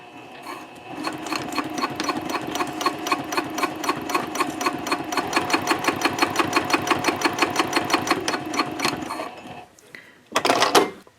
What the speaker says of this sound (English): we will sew them together 1/8 of an inch away from the edge of the bottom of that slot